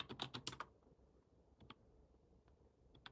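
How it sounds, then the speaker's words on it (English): Quick keyboard typing while entering text into a music app: a dense burst of clicking keystrokes at the start, then a few sparse, soft taps with no talking. "You see what I'm typing?"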